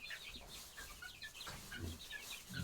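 Soft clucking and chirping from several chicks, scattered and continuous, fairly faint and close, with low rustling underneath.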